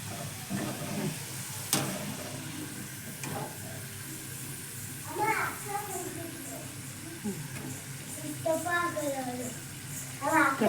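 French fries frying in hot oil give a steady, close sizzle throughout, with occasional clinks, while people talk over it.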